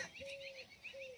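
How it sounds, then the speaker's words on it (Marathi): Faint morning sparrow calls ring out softly: a couple of sustained whistled notes with light chirping, distant and quiet. "चिमण्यांचा किलबिला चाल झाला सकाळ सकाळ"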